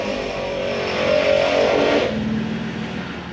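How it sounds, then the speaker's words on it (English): Air compressor mounted in a Tacoma truck bed kicks on with a steady motor whir that swells briefly then settles into a continuous droning hum, close and unaccompanied. "That sound was the compressor turning on"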